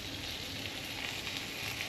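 Steady, close sizzling of butter frying homemade pierogies in a pan, a continuous crackling hiss with no talking.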